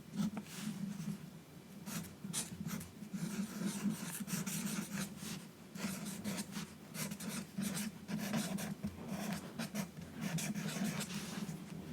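A pen scratches across paper in close, quiet strokes as goals are written out, a continuous rubbing and scribbling texture with small pauses between words, intimate and soft with no talk.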